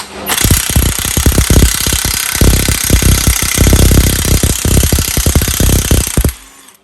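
A Parkside Performance 1356 Nm brushless cordless impact wrench loosens rusty, oxidised, mud-caked wheel nuts on a roadside-assistance vehicle, giving a loud, continuous rapid hammering burst for about six seconds before it abruptly stops.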